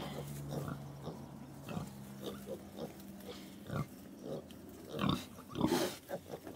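A pet pig named Freya grunts in short, low bursts, close by, with louder snuffling grunts toward the end alongside faint farmyard background.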